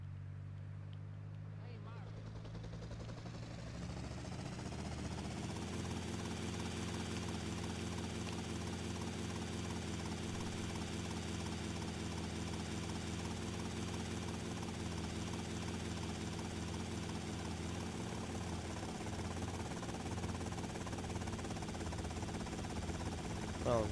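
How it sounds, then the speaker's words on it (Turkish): A helicopter in GTA Vice City Definitive Edition hums with a steady engine and rotor drone that swells after a few seconds and holds loud and continuous, with a voice talking over it. "Tamam biz sinek helikopterimize biniyoruz."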